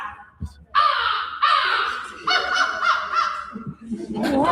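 A man imitates an American crow with a run of loud, close, harsh caws in uneven bursts, voiced by a person rather than a bird, and a little studio chatter follows at the end.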